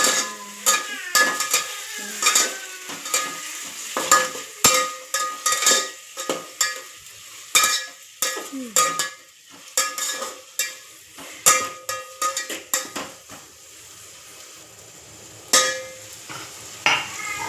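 Ginger garlic paste frying in a hot pan while a spoon repeatedly scrapes and stirs it, giving close, irregular clatters over a steady sizzle with no talking.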